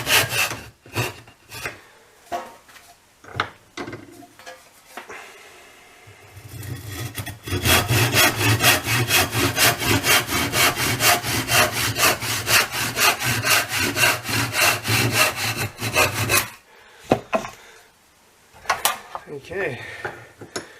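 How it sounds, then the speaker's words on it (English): A crosscut hand saw cuts through scrap building-site wood in a long run of fast, even back-and-forth rasping strokes, close and loud, with scattered knocks and talk before and after. "with the crosscut saw we can just cut through here"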